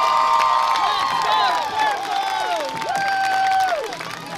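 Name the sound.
football crowd cheering before kickoff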